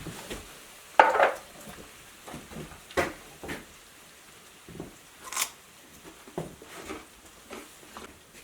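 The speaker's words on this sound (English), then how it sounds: "And then Eric's going to add the cauliflower" Cauliflower pieces go into a pot of duck curry with coconut milk, making scattered soft knocks and clatters at irregular intervals, fairly quiet with stretches of near silence between.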